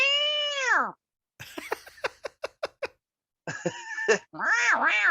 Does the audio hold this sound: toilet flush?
no